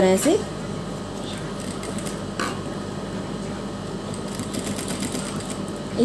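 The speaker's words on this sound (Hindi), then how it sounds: "इसी तरह से हम अब इस नेक के अंदर की तरफ भी लेस को रखते हुए इस साइड भी हम किनारे किनारे पर सिलाई लगा देंगे" A sewing machine stitching lace along the inside edge of a neckline, a steady, fast mechanical whir and clatter running throughout at close range, with a brief pause near the start.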